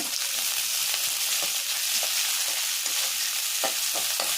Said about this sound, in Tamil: இப்போ வந்து இதில் ஆனியன் அப்புறம் சில்லி போட்டுருங்க லேசாக வதக்கிடுங்க